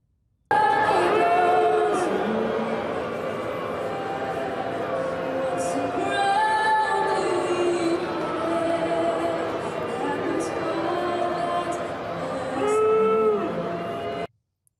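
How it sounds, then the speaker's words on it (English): A large crowd of NBA fans in a Toronto arena booing through the national anthem, a loud, sustained roar of jeers and whistles that swells near the end. "Here's some NBA fans in Toronto booing our national anthem"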